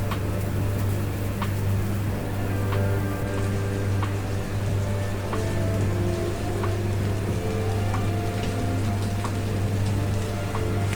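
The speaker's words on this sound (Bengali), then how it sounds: "কিছুক্ষণ মশলাগুলোর সাথে পোলাওয়ের চালগুলোকে আমি ভেজে নিচ্ছি।" Pulao rice being fried with spices in a pan, giving a constant, close sizzle and crackle with a steady low hum underneath and small crisp pops scattered through it.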